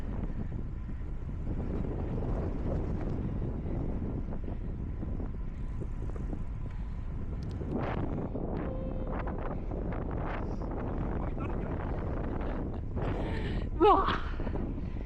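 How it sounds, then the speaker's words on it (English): Wind rushing and buffeting a microphone during a bike ride on a rainy day, a low continuous roar throughout with brief voices and a short thump near the end. "it is windy."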